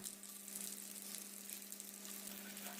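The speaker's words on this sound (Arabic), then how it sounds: "وبعد كده هنبتدي نقلي الحمام بالشكل ده" Pigeon frying in a hot pan of butter or ghee with a splash of oil, giving a quiet, steady sizzle and crackle throughout, with no talk.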